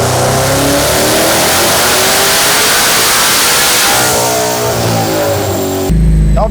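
Twin-turbo Ford Mustang S650 engine running a full-RPM dyno pull on 93 octane, a loud sustained roar sweeping steadily upward in pitch, then cutting off abruptly near the end.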